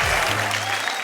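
Audience applause at a live poetry recitation, a broad steady wash of many hands clapping close and loud through the whole second, with no gaps.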